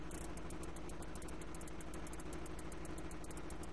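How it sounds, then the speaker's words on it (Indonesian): Programmed hi-hat pattern in FL Studio, a quick regular ticking of crisp bright hits over a steady low hum, quiet and even throughout. "di sini ada hi-hat saya gunakan."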